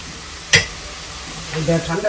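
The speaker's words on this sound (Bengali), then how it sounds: "আমি করতেছি আলু ভাজি" Sliced potatoes for aloo bhaji sizzle in hot oil in a pan, with a sharp clack of a spatula against the pan and stirring scrapes over a constant frying hiss, close by.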